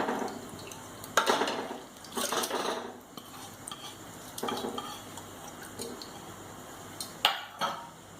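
Roasted, ground horse gram dal is tipped into a pressure cooker on the stove, with a few sharp metallic clinks and scrapes of utensils against the pot amid soft rustling, heard close up.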